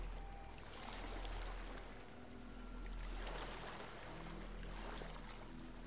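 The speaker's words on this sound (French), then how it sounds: "Écoute le bruit des vagues" Water washes at the shore in slow, soft surges that rise and fall about every two seconds, faint and steady with a low rumble underneath.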